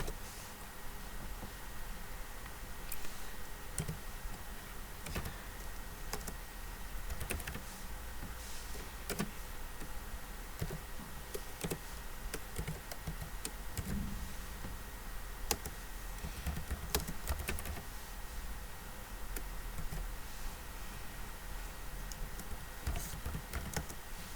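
Computer keyboard typed on while entering VHDL code in Vivado, a steady stream of close, quick key clicks running throughout over a faint background hum.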